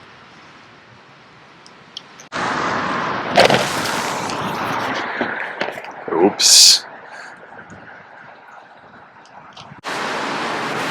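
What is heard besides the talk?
street traffic noise in the rain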